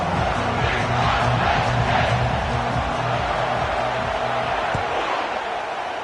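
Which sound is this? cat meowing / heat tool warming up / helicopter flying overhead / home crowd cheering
home crowd cheering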